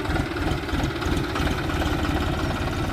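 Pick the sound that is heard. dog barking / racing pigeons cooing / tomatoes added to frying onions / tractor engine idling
tractor engine idling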